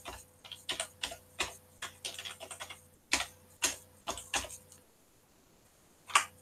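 Keys clacking on a computer keyboard as a login ID is typed on a laptop or desktop, a close, irregular run of crisp taps in quick bursts with short pauses, alone and without speech.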